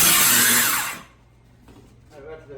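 A power saw whines hard through a floor rafter beneath a mobile home, a loud high-pitched cut for about a second that then drops away into quieter shuffling.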